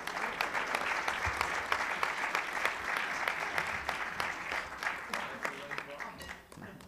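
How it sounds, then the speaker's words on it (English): Sustained audience applause fills a luncheon hall at the National Press Club before a talk by Los Angeles Mayor Antonio Villaraigosa, a steady dense patter of many hands with a few louder claps, continuing for several seconds. "Now you can applaud."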